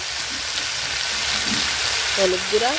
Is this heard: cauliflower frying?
yes